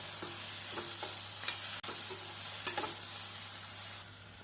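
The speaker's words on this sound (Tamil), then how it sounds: "நாம் ஒரு நிமிடம் நன்றாக வதக்க வேண்டும்" Steady sizzling of onion and tomato sautéing in a pan with occasional scraping stirs of a spoon, close up, with a low background hum throughout.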